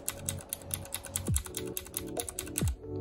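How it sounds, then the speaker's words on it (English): Fast typing on a loud Ducky mechanical keyboard with blue keycaps: a close, rapid run of sharp clacks with a few heavier thocks as keys bottom out. "This is called the Ducky 12 Mini. You know, this keyboard is extremely loud,"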